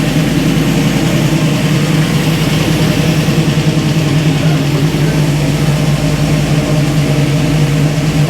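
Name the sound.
tuned small-block V8 engine idling through mufflers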